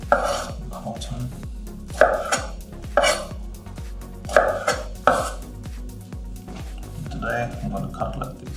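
A knife chops through vegetables on a cutting board, with about half a dozen sharp, evenly spaced knocks of the blade hitting wood close by, and voices talking over the cutting.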